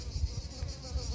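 Flies buzz around outdoors in the heat at a treated field, a continuous close, droning hum with small swells in loudness and no voices.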